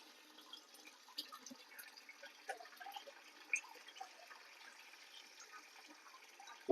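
Water splashes and drips faintly as an ingredient is rinsed two or three times in a home kitchen, with soft, scattered sloshes and trickles over a quiet background.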